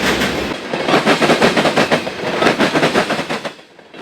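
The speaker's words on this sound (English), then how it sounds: "Dash 840 CWs are in charge of loaded CSX ethanol train B789 as they roll through East Chicago, Indiana" GE Dash 8-40CW diesel locomotives haul a loaded CSX ethanol train through East Chicago, Indiana on an August evening, a loud steady roar with rhythmic clickety-clack of wheels over rail joints passing close by, easing off at the end.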